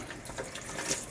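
Tap water runs and splashes steadily while gunky home-brewing equipment from a hazy IPA batch gets rinsed under it, a short close, even wash with no one speaking.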